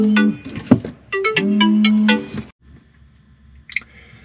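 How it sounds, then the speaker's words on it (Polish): A tonal electronic ringtone melody plays loudly for about two and a half seconds, then stops, leaving quiet background with a brief faint click. "Oho, telefon."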